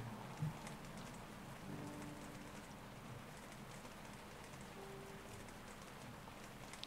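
Steady, faint rainfall from a rainy night scene in the video game Distraint, a soft continuous patter with no talk over it.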